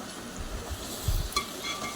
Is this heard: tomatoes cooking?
yes